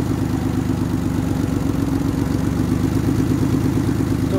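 A Mitsubishi FTO turbo car engine with a faulty, damaged engine runs steadily nearby, a loud continuous idle with a rough, rhythmic clatter.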